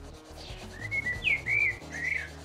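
Kitchen roll rubbed over sticky tape residue gives a close, soft scratchy rubbing with a few short squeaky streaks, continuous for a couple of seconds with no talk.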